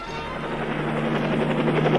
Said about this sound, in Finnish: Helikopteri. Se pörrää, surraa, kiertelee ja suoraan ylös lentelee.